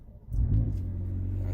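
A 2020 McLaren GT grand touring supercar engine starts up nearby: a quick cranking catch into a loud low rumble that settles into a steady grumbling idle.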